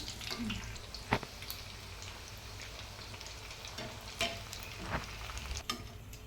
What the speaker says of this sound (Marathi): आपले बॉल्स फ्राय करून रेडी आहेत